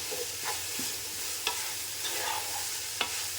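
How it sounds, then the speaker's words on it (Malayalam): Chicken fried rice with vegetables is stirred in a hot pan, a soft continuous sizzle broken by sharp scraping clicks of the spatula every second or so. "ഇനി ഇത് മൊത്തം മിക്സ് ചെയ്യാം"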